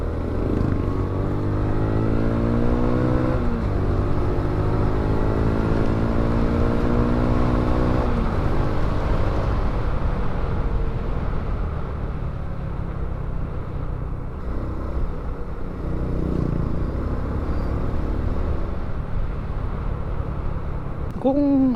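A Honda XRM 125 fuel-injected motorcycle engine runs loud and close, its pitch climbing in rising revs over the first several seconds, then settling to a steady rumbling idle.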